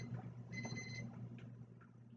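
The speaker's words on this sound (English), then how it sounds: "Timer's gone off." A kitchen timer goes off faintly in the background with a brief electronic beeping tone, set while spatchcock chicken cooks, under a low room hum.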